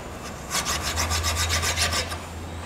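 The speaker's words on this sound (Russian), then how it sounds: "Тут ржавчина уже ушла внутрь, поэтому мы чистим напильником," Hand file rasping rust off an old metal suspension part, a close, steady series of about ten rhythmic back-and-forth scraping strokes over a low background hum.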